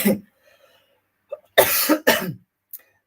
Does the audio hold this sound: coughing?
yes